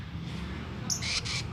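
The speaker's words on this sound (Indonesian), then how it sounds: "Ini adalah burung bobi yang akan saya kirim ke Banjarnegara ini guys" A lovebird kept for sale gives a couple of short, sharp squawking calls near the end, over a low background hum.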